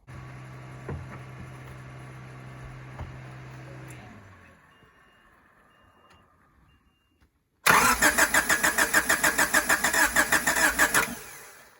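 An engine being keyed back to life after flywheel repair work: quiet ambient hum and faint clatter first, then near-silence, then a loud burst of rapid rhythmic cranking and chugging that runs for several seconds close by.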